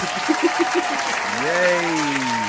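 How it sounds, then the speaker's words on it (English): Canned audience applause sound effect played on cue during a podcast episode, a broad wash of clapping with a voice speaking over it and brief tonal sounds at the start. "Audience sound effect, please."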